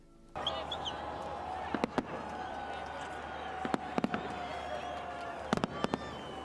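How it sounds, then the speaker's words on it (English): New Year's Eve fireworks in North Korea: scattered sharp bangs and crackles ring out over a continuous murmur of crowd noise, sounding somewhat distant. "North Koreans also celebrated the New Year with fireworks."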